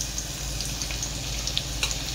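Garlic crackling in hot oil while cooking a fish curry, a steady close sizzle with scattered sharp pops and spits throughout.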